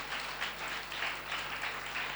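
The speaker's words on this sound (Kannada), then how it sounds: "ಚಪ್ಪಾಳೆ ಹೊಡಿರಿ" A church congregation at a sermon claps together in a steady, moderately loud round of applause, a dense continuous patter of many hands over a low hum.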